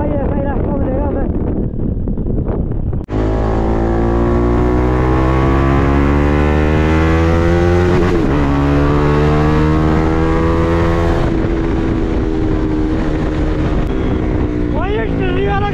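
A car drives along an unlit night road, its engine a loud steady drone that rises and falls with speed, with wind rush over the microphone and bits of talk from the passengers.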